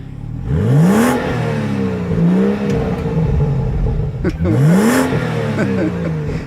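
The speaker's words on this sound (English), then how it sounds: "Let's do a little rev time." A black 2017 BMW 435i M Sport engine revved twice at close range, each blip rising sharply and falling back to a loud, rumbling idle between them.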